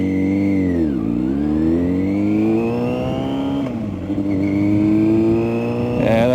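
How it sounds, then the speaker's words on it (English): A Mitsubishi car engine revs hard with the clutch in, holding high, dipping sharply around one second, then climbing again in sustained, loud, close-up roars with no talking. "Keep your revs up, get your revs up before you let your clutch out."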